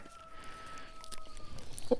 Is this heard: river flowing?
no